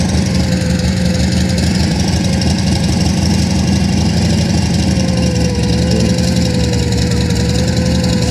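The engine of a homemade five-seat helicopter runs steadily at idle, a loud, continuous rumbling drone close by with no pauses.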